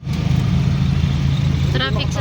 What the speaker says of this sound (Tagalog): Traffic sa Tagaytay.